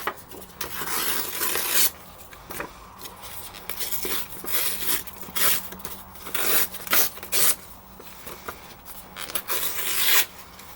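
Paper being torn and handled for a junk journal page gives repeated bursts of crisp ripping and rustling, some long and some short, close up, separated by brief quieter pauses, with no talk.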